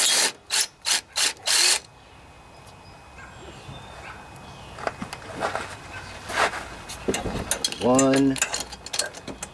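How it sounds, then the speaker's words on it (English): A 3/8 socket on a ratchet loosens the head bolts of a Briggs and Stratton OHV Intek engine, giving five quick loud ratchet bursts up close, then a spoken word and more clicking and tool handling. "I'm using a 3/8 socket to take them off."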